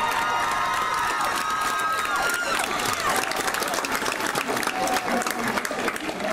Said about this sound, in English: Could we have a big round of applause for our staff